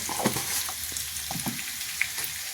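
Coconut pieces and jackfruit seeds fry with turmeric in a pan, giving a steady close sizzle with occasional brief stirring scrapes and pops throughout, no voices.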